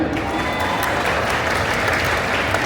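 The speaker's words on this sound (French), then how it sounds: "Vous pouvez vous applaudir?" A festival audience claps loudly and continuously, a dense, even roar of applause filling the hall throughout.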